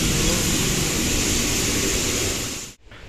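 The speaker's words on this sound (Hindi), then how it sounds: "आप सुन सकते हो यहाँ नॉइस कितना ज़्यादा है एयर प्रेशर का।" Loud, steady rush of high air pressure inside the Bhilai steel plant, a broad hissing roar that fills the space before cutting off abruptly near the end, with no voices.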